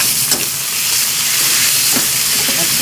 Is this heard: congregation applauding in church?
no